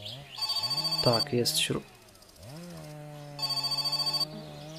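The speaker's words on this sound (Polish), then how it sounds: "Ja cię kręcę, ale szybko telefon." Telephone ringing in the video game My Summer Car: two bursts of electronic bell-like ringing with a steady repeating pulse, separated by a gap, while someone speaks over the first ring.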